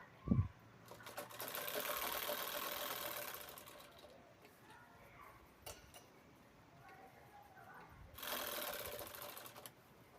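A sewing machine stitches fabric for a handbag pocket. It runs in a steady whirring burst, pauses, then whirs again, close up, with a sharp knock at the start and no talking.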